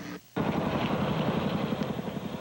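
A U.S. Army 101st Airborne military helicopter in Iraq gives a loud, steady rotor chop with a rapid rhythmic beat that cuts in abruptly after a brief dip.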